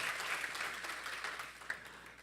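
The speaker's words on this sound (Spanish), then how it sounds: "Démosle un aplauso al Señor" A church congregation applauding during a sermon, steady clapping that stays moderately loud, fairly faint and even throughout with no voices over it.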